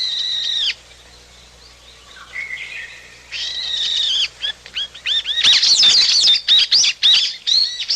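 Brown-eared bulbuls give loud, shrill calls recorded outdoors on a university campus. An opening call gives way to a quieter gap, then repeated harsh, sweeping squeals build into a dense, noisy chorus of overlapping cries.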